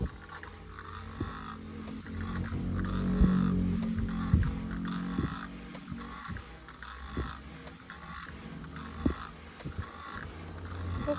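A small mini fan runs inside a car, giving a steady low hum and throbbing drone with scattered faint clicks and ticks throughout.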